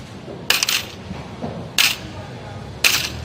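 Coins dropping onto a shop counter, three separate bright metallic clinks spaced about a second apart, close and moderately loud over a low background hum.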